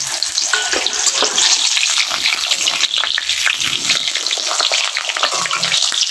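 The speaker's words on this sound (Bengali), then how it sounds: "বন্ধুরা, পটল ভেজে নেব হালকা করে।" Salted pointed gourd (potol) fries in oil in a kadai, a loud, dense, close sizzle and bubbling with spatula stirring scrapes running throughout, no talking.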